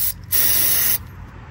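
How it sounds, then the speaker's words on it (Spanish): A can of penetrating spray hisses in one steady burst of under a second onto the exhaust manifold bolts of a Toyota Camry, close and loud, then cuts off. "le vamos a echar todo el spray"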